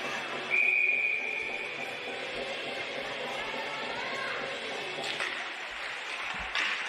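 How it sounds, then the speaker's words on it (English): A referee's whistle blows during a women's ice hockey game between Perth Inferno and Melbourne Ice, a short shrill tone over a noisy arena crowd and commentary. "And there is a whistle."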